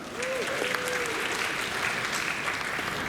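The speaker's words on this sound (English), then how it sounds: "Round of applause" Audience applause fills a convention panel room, a steady dense wash of clapping from a large crowd that holds evenly from start to finish with no talking over it.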